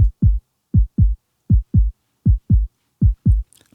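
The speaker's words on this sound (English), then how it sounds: "So I have like these two ghosts, right? Basically like the muted kind of kick. Sounds like a heartbeat." Muted ghost kick drum samples in a drum and bass groove, dull low thumps in close pairs repeating at an even tempo like a heartbeat, isolated against silence.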